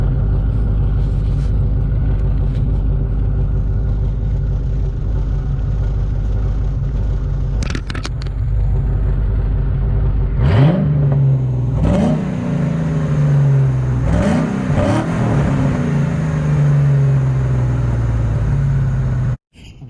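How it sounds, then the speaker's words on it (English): A car engine fitted with headers and factory mufflers idles with a deep steady rumble, then revs hard several times in sharp rising bursts, loud and close, before cutting off abruptly. "I'm excited about the headers as it does give it that, deeper, more aggressive, throaty sound"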